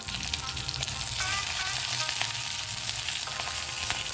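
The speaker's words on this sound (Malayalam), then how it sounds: "ഗീ നന്നായി ചൂടായി കഴിഞ്ഞാൽ സ്ലിറ്റ് ചെയ്ത് വെച്ചിട്ടുള്ള ഒരു നാല് പച്ചമുളക് നല്ല അത്യാവശ്യം നല്ല എരിവുള്ള പച്ചമുളകാണ് അതിട്ട്" Slit hot green chillies sizzle in hot ghee in a pan, a steady close crackling fry with faint scrapes of stirring and no voices.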